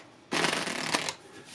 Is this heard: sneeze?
no